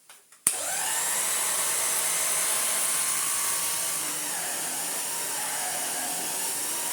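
A restored 1960s American Electrolux Automatic G vacuum cleaner switches on with a click and runs with a loud, steady whirring whine, its pitch easing slightly as it settles.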